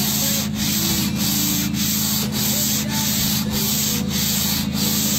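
Continuous rough rubbing or sanding of a dry-coated surface, loud and close, with a steady abrasive hiss and faint rhythmic pulses from the back-and-forth strokes, with no voices.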